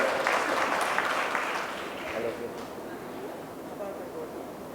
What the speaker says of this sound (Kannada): ಒಂದು ಅಭಿನಂದನೆಯ ಚಪ್ಪಾಳೆಯ ಮೂಲಕ ಕೃತಜ್ಞತೆ ಹೇಳೋಣ